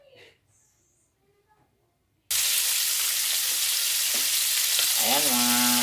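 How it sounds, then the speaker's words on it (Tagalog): A second batch of food drops into hot oil and breaks into a loud, steady sizzle that continues to the end. Before it, a short stretch of quieter kitchen sounds includes brief voices. "pangalawang salang na ng ating prito"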